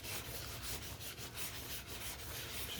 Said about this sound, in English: I like to rub them down